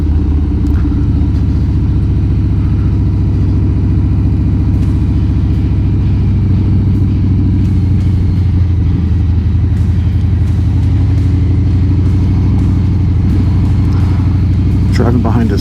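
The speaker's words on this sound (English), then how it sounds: "Driving behind us, I think it's a street sweeper." A street sweeper drives behind a downtown vehicle, giving off a loud, continuous engine rumble and road roar that persists throughout with little change.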